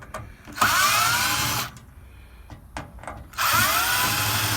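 A battery power drill unscrews parts from a microwave oven, running in two whirring bursts of about a second each with a short, quieter pause of clicks and handling between them, close and loud.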